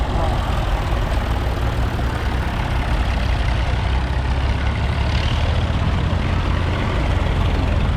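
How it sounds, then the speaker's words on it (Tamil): Heavy tractor engines rumble steadily and loudly close by, a continuous low drone of big farm vehicles moving past at a crowded temple festival. "மற்ற டிராக்டர் எல்லாம் போய் கொண்டிருக்கிறாங்க இங்கே"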